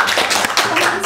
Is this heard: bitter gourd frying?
no